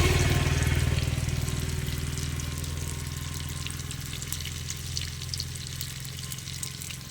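Bitter gourd and okra frying in oil in a pan, a steady loud sizzle that starts strongest and settles into an even crackling hiss, with no voices.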